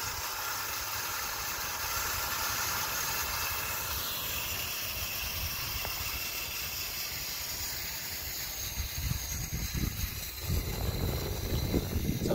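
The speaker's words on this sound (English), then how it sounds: "Pump, it's not very loud." A Harbor Freight sprinkler pump drawing water from a rain barrel runs with a steady, fairly quiet hiss and hum, picking up a rougher, rattling texture toward the end.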